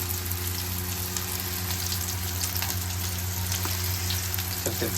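Chicken frying on a tawa: a steady, close, dense sizzle and crackle of oil runs throughout, with a low hum underneath and faint stirring scrapes, no voices.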